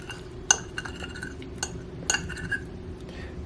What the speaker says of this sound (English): I just grabbed a fork. Let's cut into the yolk.